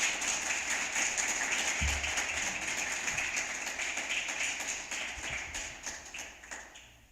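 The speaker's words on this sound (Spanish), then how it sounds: "Dale un aplauso al Señor, por favor." A church congregation applauds in a large room, a dense, continuous clapping that slowly fades toward the end, with no voices over it.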